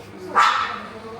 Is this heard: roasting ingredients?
no